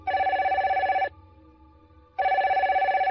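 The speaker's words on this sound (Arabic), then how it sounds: "بضع ثوان بعد أن أنهى المكالمة رن هاتفه" A telephone rings in two loud, steady bursts about a second long, separated by a pause, with no voices.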